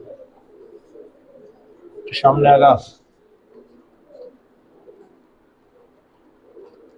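High flyer pigeons on a farm give a short, fairly loud burst of cooing, set between brief stretches of a man's speech in an otherwise quiet coop.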